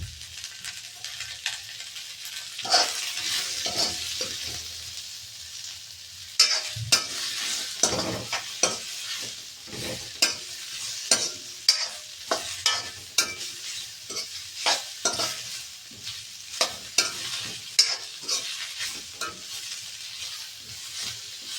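Onions sizzle in a hot pan for a Kannada-style cabbage palya, with a soft steady frying hiss broken by repeated scraping and clinking stirs that come in bursts and grow busier in the second half.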